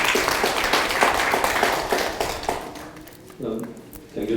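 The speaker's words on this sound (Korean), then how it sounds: "박수 한번." Audience applause at a Korean policy forum discussion, a dense burst of clapping from a seated crowd that fades after a few seconds before a voice begins speaking.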